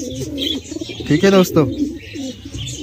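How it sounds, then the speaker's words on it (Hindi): Pigeons coo softly in a rounded, throaty warble, with a brief chirp in the middle, while someone speaks briefly nearby. "बहुत ही अच्छे कबूतर हैं अपने"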